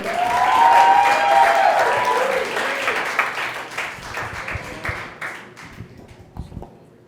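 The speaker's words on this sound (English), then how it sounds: "Please clap it up for Marc Ragovin" An audience at a comedy show claps loudly for a stand-up comedian taking the stage, heaviest at first, then thinning into scattered claps and fading near the end.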